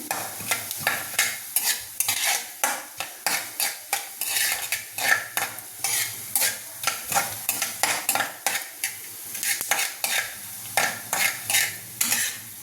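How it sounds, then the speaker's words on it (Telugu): Dried red chillies fry in a pan for a tamarind chutney. Quick, rhythmic spoon scrapes and taps ring out one after another over a faint sizzle, close up and with no speech. "ఎండుమిర్చి కూడా వేయించాలి"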